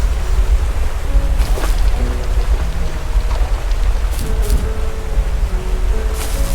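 Steady rushing water from a waterfall in The First Tree video game, a dense continuous roar heard alone with no talk over it.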